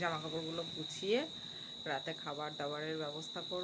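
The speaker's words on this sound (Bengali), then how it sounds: "আর ঝিঝি পোকা ডাকছে বাইরে" Crickets chirp outside in the evening as a steady, high, continuous trill throughout, fairly faint beneath someone speaking indoors.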